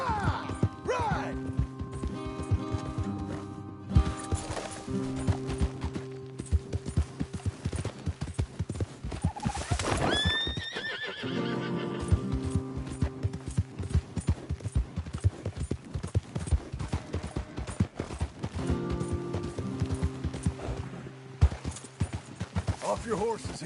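Horse hooves clatter in a fast, steady galloping rhythm throughout a PS4 video game, with a horse whinnying midway and voices speaking over the clopping.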